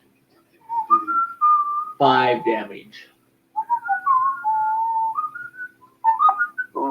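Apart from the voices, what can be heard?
human whistling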